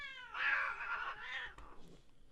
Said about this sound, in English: my cat's in heat, and she won't leave me the fuck alone